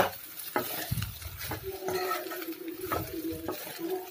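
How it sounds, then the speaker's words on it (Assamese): Leftover cooked rice stirred and fried in a pan, with a steady close sizzle broken by repeated scraping strokes of a spatula against the pan. "সেইকাৰণে ভাজি দিলোঁ"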